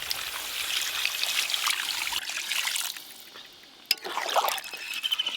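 Water streams and trickles into a pan of thin chicken curry with potato and papaya, a light steady pour near at hand, briefly pausing before a few final splashes and drips.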